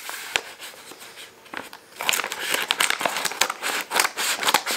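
A mail envelope from a small fabric shop, printed with a logo and shop name, is torn open and crinkled up close, with crisp crackling bursts after a quieter start of scattered clicks and rustles.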